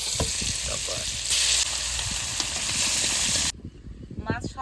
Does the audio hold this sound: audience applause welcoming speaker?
no